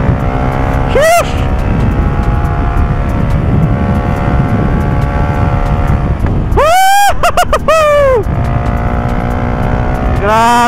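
Loud, close motorcycle engine noise runs steadily throughout as a bike is ridden through corners, with sharp rising-and-falling engine whines heard near the start and again later.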